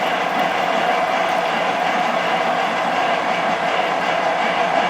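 A boring machine cuts metal and pulls chips through the flutes of its tooling, giving a steady, loud mechanical roar with a continuous grinding rattle and no pauses.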